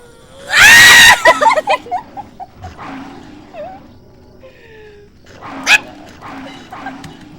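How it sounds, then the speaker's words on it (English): Dog barking in Silent Hill 4: The Room, a loud burst of several close barks at the start, followed by quieter yips and growly game sounds, with another sharp bark later. "Oh, that's a dog."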